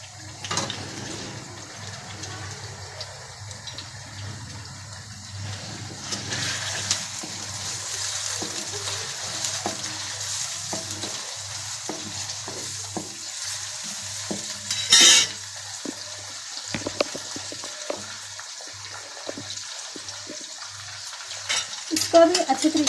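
Chicken fries in hot oil with onions while being stirred, a continuous sizzle broken by scraping spoon strokes and a sharp metallic clink partway through.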